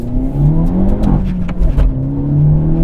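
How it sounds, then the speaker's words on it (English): A 2023 Hyundai Elantra N engine revs loudly up close in sporty active sound mode, its throaty growl rising and falling over a few seconds with no talking. "This provides the driving sound of a sports car."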